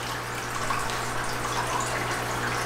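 Water is scooped out of a fish tank: a continuous soft splashing and trickling with a low steady hum beneath, fairly quiet and even throughout.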